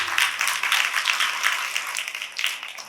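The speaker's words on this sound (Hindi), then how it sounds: "अरे वाह, एक तालियां तो बनती है" Applause from an audience at a Mahashivratri festival gathering in Sirsa, a steady crackle of many hands clapping that runs throughout without a break and fades slightly toward the end.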